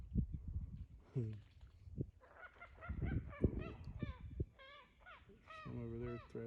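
Waterfowl thrash around on the water and raise a noisy racket, with repeated honking, goose-like calls in bursts over a low splashing rumble, fairly close and steady throughout.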